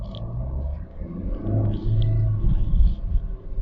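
A tuned Suzuki car engine with a performance air filter rumbles steadily from inside the cabin, its low drone swelling slightly as it revs while driving, with no talking.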